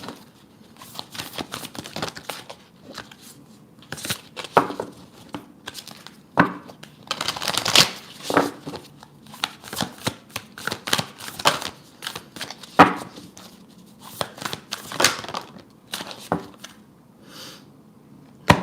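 Tarot cards shuffled and handled at close range, a run of quick papery riffles, slaps and crisp flicks in uneven bursts, with no voices.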